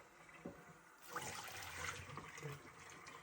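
Tap water gushing through newly installed water filters, a steady rushing flow that swells up after a quiet start and continues alone at moderate loudness.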